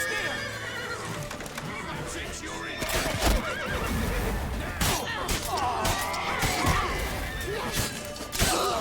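In the Witcher 3 game, a horse gives repeated loud neighs and whinnies mixed with clip-clopping hooves, crashes and battle noise, while voices talk over the action.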